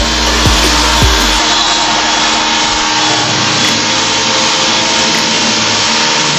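A Black & Decker PW1400S pressure washer sprays steadily, a loud continuous hiss and rush of water with the pump droning underneath, unbroken from start to finish with no talking.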